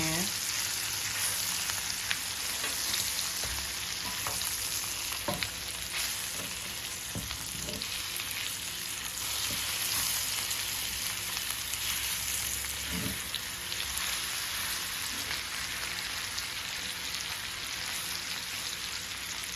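Short ribs browning in a hot pan for braised short ribs, a steady dense sizzle running throughout with occasional louder crackles and pops, close and continuous, with no talking over it.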